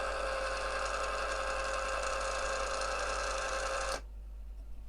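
An antenna rotator motor running under power gives a steady, close mechanical hum and whine that holds evenly for about four seconds and then cuts off abruptly into quiet.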